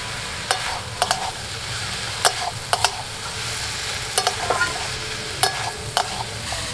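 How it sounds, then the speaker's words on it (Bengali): Chana dal and fried potatoes hit a hot pan with banana stem, a soft sizzle running under sharp, irregular clicks and scrapes of a stirring spatula, close by with no speech. "এই ছোলার ডালগুলো দিয়ে দিচ্ছি। একই সাথে ভেজে রাখা আলুগুলোকেও দিয়ে দিচ্ছি।"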